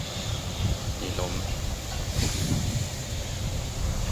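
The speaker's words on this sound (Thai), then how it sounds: "มีลม" Wind blowing outdoors near an EV charging station at a PTT service station in Prachinburi on a cool, dry day, a steady rushing buffet against the microphone with a few faint knocks underneath.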